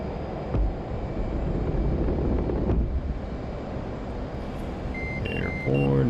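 An F/A-18C jet rolling for takeoff in DCS World, a steady roaring engine drone with wind rush building throughout, short beeping tones near the end, and someone talking over it.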